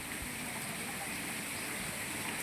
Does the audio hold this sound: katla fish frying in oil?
no